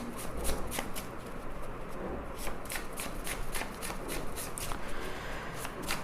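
Hand-written tarot cards are shuffled in a continuous run of quick riffling flicks, close and crisp, with a faint murmur of room sound underneath and no clear speech.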